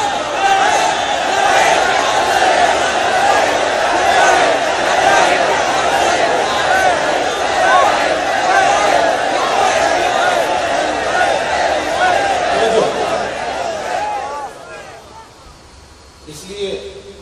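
A large crowd at a religious gathering chants Labbaik slogans, a loud, dense wall of massed voices sustained throughout before thinning out near the end.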